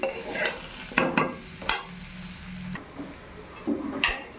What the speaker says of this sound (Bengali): পোস্ত আলু ভাজা আমার হয়ে গেছে, এবার নামিয়ে নেব।